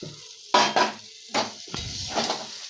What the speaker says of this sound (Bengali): এই পর্যায়ে আমি আলুগুলো দিয়ে দিচ্ছি বেজে রাখা আলুগুলো